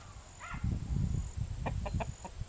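Chickens in a backyard play yard give a few soft clucks and short calls over a steady low rumble of scuffling and movement, fairly close but not loud.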